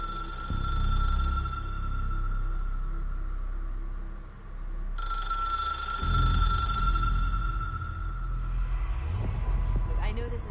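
A telephone rings in the video game Control with sustained electronic tones that start and stop a few times. It sits over a throbbing low hum and background rumble, and there is no clear talk.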